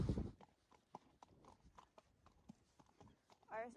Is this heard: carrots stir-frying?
no